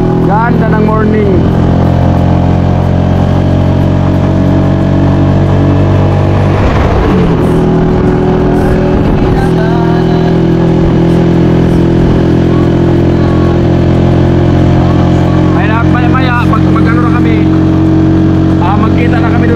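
Motorcycle ridden along a road in the morning, its engine loud and close throughout with a steady drone, changing pitch as it accelerates, with voices talking over it.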